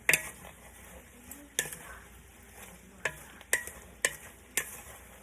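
A spoon stirs paprika, salt, pepper and cayenne into food in a pot for a Southern dinner, giving several sharp scraping clacks at irregular intervals over a low simmering background.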